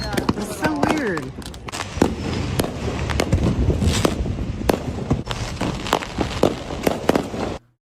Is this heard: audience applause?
no